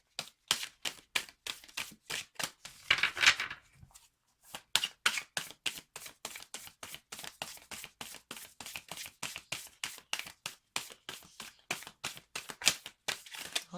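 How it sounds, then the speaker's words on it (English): Tarot cards being shuffled by hand: a long run of rapid, crisp riffling taps, near and fairly loud, with one brief pause before the steady rhythm resumes. No speech. "Almost, see? Almost. Last shuffle."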